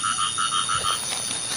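Frogs call in a rapid, pulsing chorus of repeated croaks, a rhythmic train of short notes over a constant high insect-like drone, near and clear with no talk.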